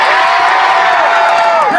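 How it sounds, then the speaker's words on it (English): A large music festival crowd at an electronic music show cheers and screams loudly and continuously, a dense roar of voices close and alone. "Let me hear you scream!"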